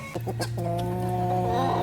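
A Rhode Island Red chicken, recently recovered from a cold, gives a few quick clucks and then a drawn-out, tonal vocal call, close and fairly loud, with no people talking.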